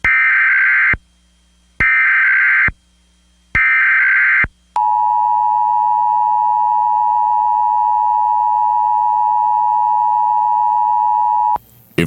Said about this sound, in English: If this had been an actual emergency, such as a hurricane or tornado, official messages would have followed the alert tones